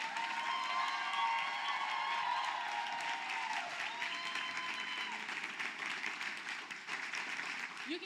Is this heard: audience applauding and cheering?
yes